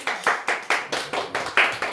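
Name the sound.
audience clapping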